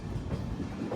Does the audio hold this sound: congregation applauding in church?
no